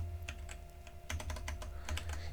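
Rapid clusters of clicking keystrokes from a computer keyboard, close and clear, over a low steady electrical hum with no talking.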